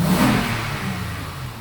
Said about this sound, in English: Let's see if we got the power back.